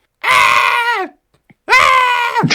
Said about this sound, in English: Do you want me to just scream?